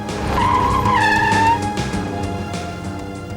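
A car brakes hard to a stop with a loud, close tire squeal that rises and then fades, while the engine keeps running steadily underneath.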